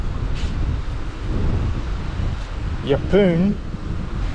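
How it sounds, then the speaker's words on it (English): Wind buffets the microphone in a steady, rumbling roar on a coastal trail near Yeppoon, Queensland, with a person briefly speaking near the end. "It's windy."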